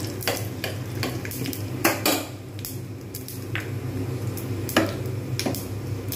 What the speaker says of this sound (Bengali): এর মধ্যে গোটা জিরে শুকনো লঙ্কা ফোড়ন, একটু নাড়বো